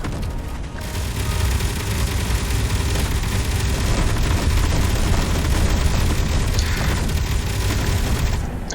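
Gunfire and explosions from the Space Engineers video game during a wave-defence battle roll on as a dense, continuous roar of blasts and shots, loud and steady across the whole stretch.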